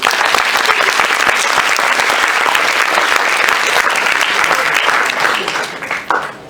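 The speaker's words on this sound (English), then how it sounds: "Give them a round of applause for putting up this event successfully" Loud, sustained applause from a university audience at a World Speech Day event on a Malaysian campus, dense clapping holding steady for several seconds before thinning and tapering off at the end.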